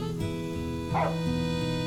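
A dog in the video game Final Fantasy XV gives a single short bark, close and clear, over a steady musical background.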